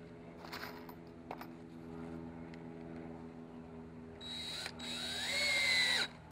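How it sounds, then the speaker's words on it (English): Power drill driving 2-inch screws into 2x4 framing of a potting bench, a low whirring motor hum that builds into a louder high-pitched screw run near the end, close and alone. "pre-drill all the holes along your side 2x4, your middle 2x4, and your other side 2x4, and install 2-inch screws in those as well."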